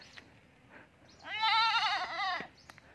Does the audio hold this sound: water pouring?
no